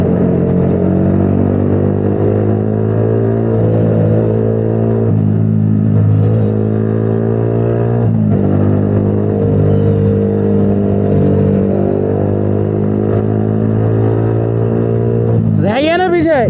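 A modified Bajaj Pulsar 220 motorcycle engine drones loud and close in a steady, harmonic-rich roar with slight pitch dips, then revs sharply upward near the end.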